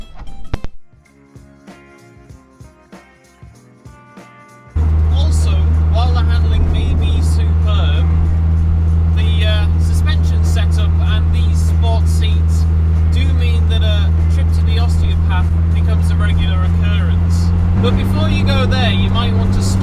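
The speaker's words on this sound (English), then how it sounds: "There's lots of wind noise from around the windscreen. The tyre roar, it doesn't matter what surface you're on" Loud, constant roar inside a Lotus Elise lightweight sports car at speed: wind rushing around the windscreen and heavy tyre roar fill the cabin, with a voice talking over the din.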